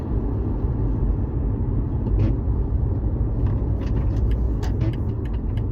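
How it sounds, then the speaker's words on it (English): Steady road traffic rumbles past nearby, a continuous low engine and tire drone with faint higher hisses and a brief squeal partway through. "Some traffic."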